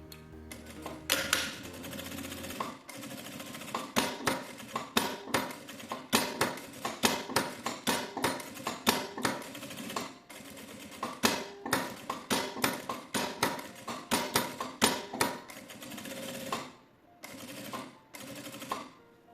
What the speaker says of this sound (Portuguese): Vamos lá, passar uma costura em toda a volta.